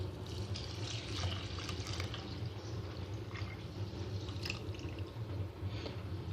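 Soured milk blended smooth is poured over rice in a dish for Egyptian baked rice, a steady liquid splashing and trickling sound heard close and continuous.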